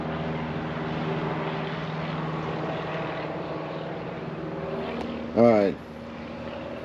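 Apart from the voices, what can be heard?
airplane flying overhead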